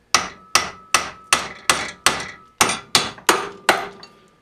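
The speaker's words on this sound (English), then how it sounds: "using my hammer, I'm just going to do a few taps on that, and hopefully that should unwedge your spindle from your crank arm" A hammer strikes a bicycle bottom bracket spindle held in a vise, eleven sharp metallic taps at an even pace, each ringing briefly before the next, close up with no speech.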